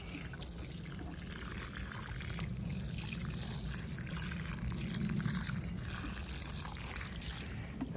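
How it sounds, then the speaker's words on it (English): Water poured onto soil around freshly planted blackberry cuttings makes a soft, continuous trickling and splashing, faint and close, swelling a little midway. "the next thing I'm going to do, I'm going to water it"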